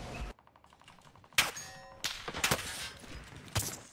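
A handful of sharp video game gunshots crack out at irregular intervals, some ringing with a metallic clang, separated by near-silent gaps; no one speaks.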